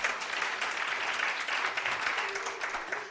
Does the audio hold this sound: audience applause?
yes